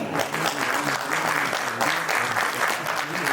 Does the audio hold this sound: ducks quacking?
no